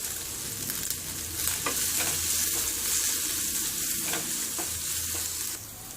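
Curry leaves fry in hot oil in a pan for masala dosa filling, a loud, close, continuous sizzle with occasional stirring scrapes throughout.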